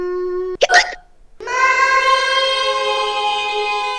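A child's hiccups in a pretend-play scene, one sharp broadband burst near the start followed by a sustained bright tonal sound, no speech.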